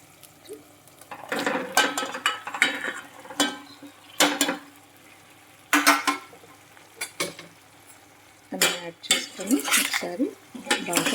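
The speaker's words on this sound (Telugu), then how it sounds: "దీంట్లోకి గుమ్మడికాయ ముక్కలను అయితే యాడ్ చేసుకుందాం" Pumpkin pieces tipped into a frying pan and stirred, with close clattering scrapes of a spoon against the pan in bursts and a soft sizzle between strokes.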